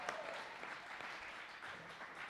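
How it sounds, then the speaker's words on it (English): A church congregation at a Celebration Sunday service claps together, a soft, steady patter of many hands heard from a distance with a faint murmur underneath. "Y'all can clap for that because I've missed them."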